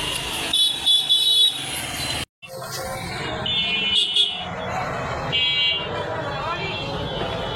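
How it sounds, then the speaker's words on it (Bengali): Car horns honk repeatedly amid the steady rumble of a jammed city road in Dhaka, with engines and motorbikes close by and voices talking over the din. "কি জ্যাম এই রাস্তায়।"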